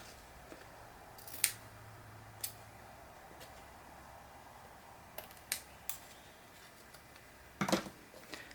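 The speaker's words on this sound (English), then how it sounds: "Trim off any extra that you would like to trim off." Scissors snip away leftover material while finishing a handmade Atlantis folio, giving a few sharp, close cuts spread out with quiet pauses between them and a quick cluster near the end.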